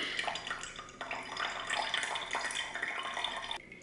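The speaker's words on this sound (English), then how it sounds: "push up the little tab on the bottom so that the coffee will actually go through the filter" Cold brew coffee draining through a filter into a pitcher after a small tab on the bottom is pushed up, a steady close trickle and splash of liquid running continuously.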